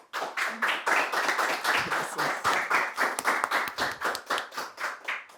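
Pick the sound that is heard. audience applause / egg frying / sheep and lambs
audience applause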